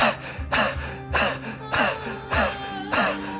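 A person imitates a dog by panting rapidly with the tongue out, producing about six loud, rhythmic breathy bursts at roughly half-second intervals, close to the microphone with no other voices.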